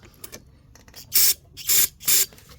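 Carburetor cleaner sprayed into an ATV carburetor in three short, loud, hissing bursts close by, separated by brief pauses, with light handling noises before them and no speech.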